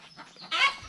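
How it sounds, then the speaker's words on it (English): A short, harsh squawk from an Ameraucana chicken, preceded by softer clucking, fairly close and brief. "You can hear the squawking going on behind me."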